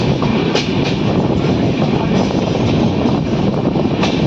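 Express train on the Konkan Railway in the rain, crossing through a junction onto another line: a loud, steady rumble and roar of wheels on track with faint rhythmic clatter, continuous throughout with no talking.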